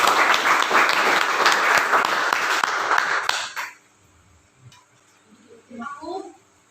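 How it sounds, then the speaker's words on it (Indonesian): Applause from a school workshop audience rings out loud and dense for about three and a half seconds, then cuts off into near-quiet with a few faint clicks and a soft voice-like sound toward the end. "Mari kita tepuk tangan."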